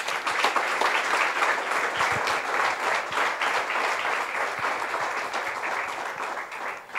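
A church congregation applauds steadily and loudly throughout, dense clapping filling the room with no break.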